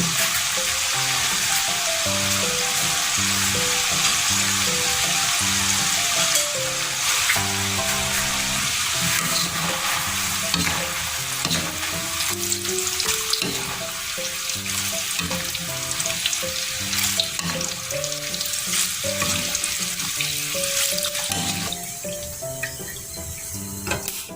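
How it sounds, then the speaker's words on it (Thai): Chicken deep-frying in hot oil for a second crisping round, a loud, continuous crackling sizzle with bubbling pops that holds steady throughout, close by and with no voices. "แต่ว่าเดี๋ยวเราจะทอดอีกรอบนึง มีทอดรอบสองทอดรอบสองทอดแป๊บเดียวนะคะ"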